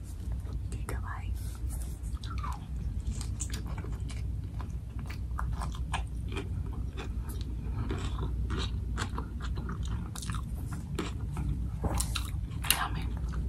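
Close, soft bites and moist chewing of a large Chipotle chicken burrito with guacamole, steady crunchy-squishy mouth sounds with faint whispered speech over a constant low hum.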